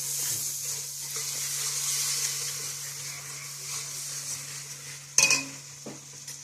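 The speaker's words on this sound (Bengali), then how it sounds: "এবার এই মশলাটা আমি একটু কষিয়ে নেব।" Paste of ground ginger, garlic, onion and tomato sautéing in a pan in a village kitchen, a steady close sizzle with stirring throughout, a brief sharper clatter near the end and a constant low hum beneath.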